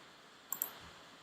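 A computer mouse clicks twice in quick succession, close and crisp, against a quiet room background.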